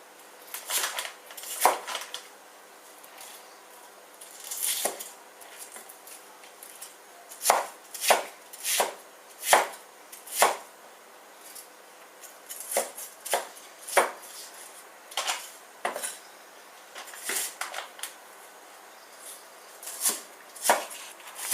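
A knife chops an onion on a cutting board in a home kitchen, sharp irregular knocks in loose bursts and runs, close and clear with no talking.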